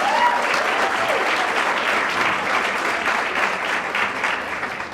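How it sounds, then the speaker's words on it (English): A crowd claps steadily for several seconds, dense and sustained applause filling the room, with a faint voice audible at the very start. "Could I please have a big round of applause?"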